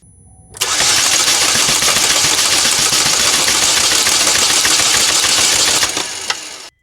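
A 2012 Chevrolet Malibu with a P0341 camshaft sensor fault cranks without starting, giving one loud, steady churning whir that runs for about five seconds and then cuts off.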